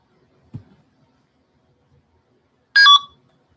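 A computer dialer plays a short, sharp burst of phone dialing tones near the end, following a faint soft click and long near-silence.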